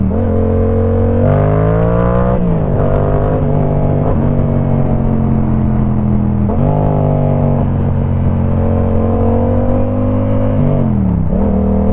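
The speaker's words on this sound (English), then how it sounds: "I want y'all to hear the bike a little bit" A motorcycle engine revs up and down repeatedly, loud and close, with rising and falling pitch as it accelerates through gears.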